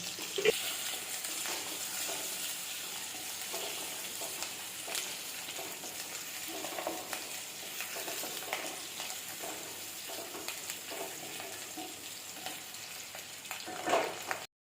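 Small onions, garlic and cumin fry in hot oil in a pan for a tamarind-style kuzhambu, a continuous loud sizzle with occasional stirring scrapes, steady throughout and no talking over it.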